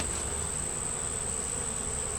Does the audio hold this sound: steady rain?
no